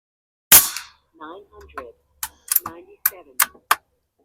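A Barra 250Z regulated air rifle fires pellets, each shot a sharp, bright crack; a loud report opens, followed by several quick, evenly spaced snapping shots, with a few soft murmurs of voice in between.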